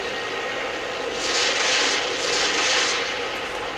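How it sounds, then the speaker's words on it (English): A helicopter in a Call of Duty multiplayer match drones with a loud, steady engine roar that swells twice, with no voices. "And the chopper gets it for me."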